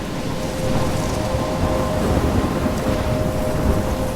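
Heavy rain pours steadily with deep rolling thunder in a thunderstorm from the video game Life is Strange, loud and continuous with no voices.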